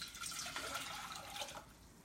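Water poured from a measured cup into a pan for a veggie lasagna, a steady close splashing stream lasting about two seconds and tapering off at the end, with no talking.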